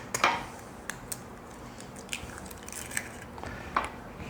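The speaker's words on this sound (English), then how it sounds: "I'm gonna add 3 eggs." Eggs cracked into a bowl while making Mexican impossible pie in a home kitchen, with a few sharp, close taps and light wet clicks scattered over a quiet background.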